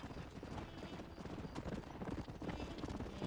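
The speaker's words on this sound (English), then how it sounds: "There's another horse, another white horse." Horse hooves clip-clopping in the Red Dead Redemption video game, a quick steady gallop rhythm of hoofbeats with a faint whinny, moderately close within game ambience.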